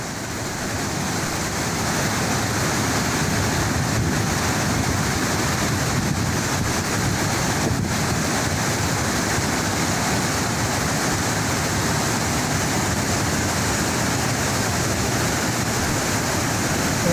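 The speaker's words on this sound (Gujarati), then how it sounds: "તેનું રૂલ લેવલ જાળવી રાખવા માટે પાણી છે એ મહીસાગર નદીમાં છોડવામાં આવ્યું છે" Floodwater released from the Wanakbori weir in Kheda, Gujarat, surging into the Mahisagar river during monsoon rains, a steady, dense roar of rushing water that holds constant throughout.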